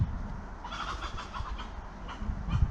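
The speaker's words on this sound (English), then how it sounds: "chickens fighting there" Agitated clucking and squawking from several chickens, with scuffling bursts and a low rumble of background noise underneath.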